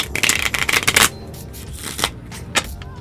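Cards shuffled for a reading: a dense, rapid riffle burst for about a second, followed by a few scattered soft slides and taps, close and fairly loud.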